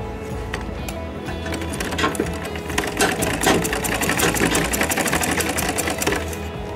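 A sewing machine stitches cloth, a dense, steady mechanical whirring and rapid needle clatter running continuously and close up, with no voices.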